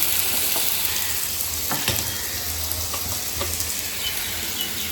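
Cut potatoes fry in oil in a home kitchen pan, giving a steady crackling sizzle with occasional louder spits and scrapes, close and continuous for a few seconds without speech.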